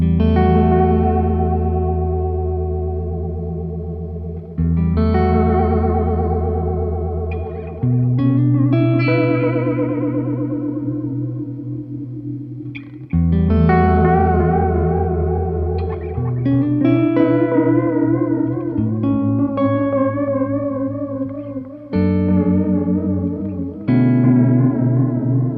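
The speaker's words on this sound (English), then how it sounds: "Going fully clockwise on the depth, on the speed sounds like this" An electric instrument played through a Benson digital delay pedal set to full depth and speed, notes warbling and wobbling heavily with echoing repeats, sustained chords ringing out one after another.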